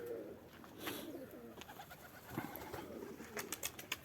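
Pigeons coo softly in an enclosed space, with scattered flutters and small knocks, and a few brief higher chirps near the end.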